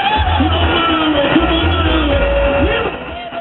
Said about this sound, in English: The crowd chanted their support as they welcomed the NRM presidential candidate